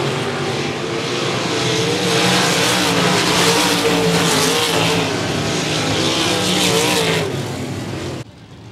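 Race cars roar together at 105 Speedway as the field takes the green flag, a loud, dense wall of engine noise that holds steady for about eight seconds before cutting off abruptly.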